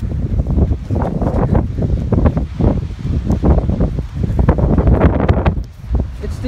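Strong wind buffets a microphone on a pier, a continuous loud rumbling roar with gusty surges that stays heavy throughout.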